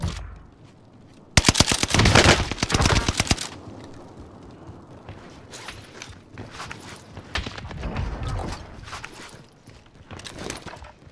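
Loud bursts of automatic gunfire from a Marco 5 submachine gun in the Warzone battle royale video game, with rapid volleys in the first seconds, then scattered shots and footsteps over quieter game sounds.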